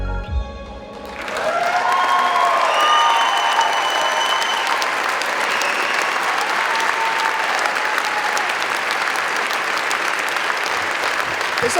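Sustained applause from an audience at a story slam community event, starting after a brief quieter second and holding steady and dense throughout, with a few voices and cheers faintly mixed into the clapping.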